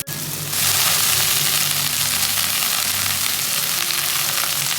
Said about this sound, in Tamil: இப்போ தக்காளியை சேர்த்து வதக்கிடுவோம்